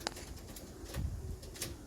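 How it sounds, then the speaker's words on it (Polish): Soft, low cooing from Dutch racing pigeons close by, with faint chirps and light background noise. "Bystre gołębie, silne"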